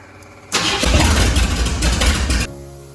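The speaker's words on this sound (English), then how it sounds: "And now hit the starter." A 1969 Ford F100 engine cranks and catches, a loud close roar lasting about two seconds before dropping back to a quieter running hum.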